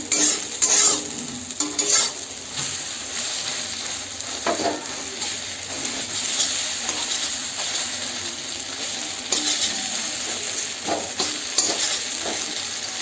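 An egg fries in a pan, heard as a continuous close sizzle with hissing bursts. Occasional utensil scrapes and taps join in, and no one talks.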